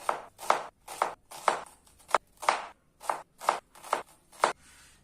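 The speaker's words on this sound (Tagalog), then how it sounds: "Next, na hiwain ay sibuyas. Hiwain lang din ng medyo maliit." A kitchen knife chopping onion into small pieces on a cutting board for a cucumber salad, about ten evenly spaced crisp close-up strokes in a steady rhythm, no talking.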